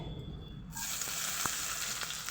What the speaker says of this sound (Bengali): পেঁয়াজগুলোকে ভেজে নেব